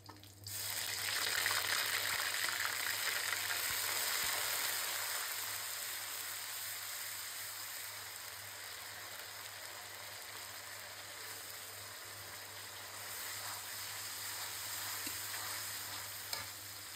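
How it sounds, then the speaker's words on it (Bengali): Onion paste with garam masala and bay leaves frying in a pan for a country chicken roast, a constant close hissing sizzle that stays loud and even for the whole stretch, with a faint low hum underneath. "এখন পেঁয়াজটা ভালো করে কষিয়ে নিয়ে পরে একে একে মশলা দিয়ে দেবো"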